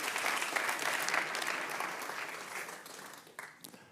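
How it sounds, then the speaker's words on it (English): Audience applause at a startup demo day after a pitch, dense clapping that gradually tapers off into a few separate claps at the close. "Big round of applause."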